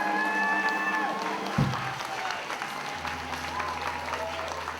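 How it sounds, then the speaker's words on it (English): Audience clapping at an elementary school Black History Month program, a dense steady wash of applause lasting throughout, with a low sustained tone and faint voices beneath. "I want you to give a nice round of applause to Mr."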